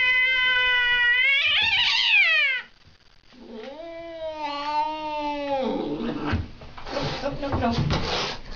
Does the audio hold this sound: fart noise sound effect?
no